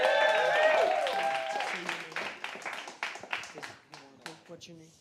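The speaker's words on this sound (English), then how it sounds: "The youngest slammer here. Give him a round of applause." A poetry slam audience claps and cheers for the youngest slammer, a burst of applause that thins out into scattered claps while a host speaks over it and the noise fades.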